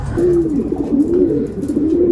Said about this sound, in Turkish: Bak bak horlandamız nasıl ötüyor.